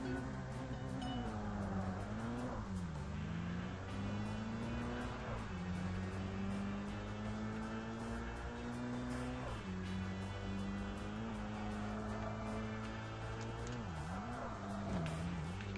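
Car engine in the racing game Tokyo Extreme Racer Drift 2, a four-wheel-drive car: a continuous close, buzzing engine drone whose pitch climbs and drops repeatedly as it revs and shifts, loud and steady throughout.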